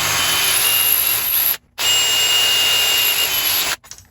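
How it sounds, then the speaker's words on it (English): A power drill bores out squished rivets on a Romanian AIMS-74 AK parts kit in 5.56, running as a close, steady high-pitched grind in two long bursts with a brief stop between them and no talk. "The drill bit I had been using is slightly under the rivet size, and these are squished rivets."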